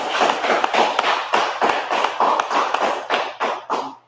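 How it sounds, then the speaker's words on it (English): A small gathering at a Feast of Purim gives a round of clapping for the sisters who made the food, a loose cluster of hand claps with distinct individual slaps, fairly close and fading toward the end. "Clap it up for the sisters who made the food and brought the"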